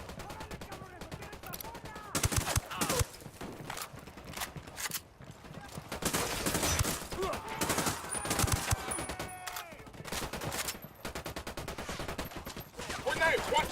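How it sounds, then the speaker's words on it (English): Gunfire crackles in Ghost Recon Wildlands as rapid bursts of shots repeat in clusters across the whole stretch, loud and close, with voices speaking over parts of it. "Shots fired. Unidad's engaging the cartel."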